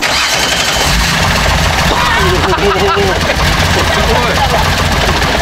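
A heavily customised special vehicle in Okinawa fires up, its engine catching with a loud, dense roar that settles into a rough, throbbing idle, close by, while a man briefly exclaims over it.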